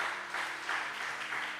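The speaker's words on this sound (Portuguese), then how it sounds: "Quem pode aplaudir o Senhor?" A church congregation applauding during a sermon, a dense, steady wash of many hands clapping at moderate distance, with no speech over it.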